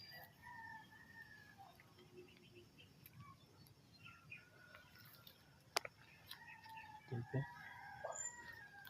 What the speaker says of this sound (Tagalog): balik si manok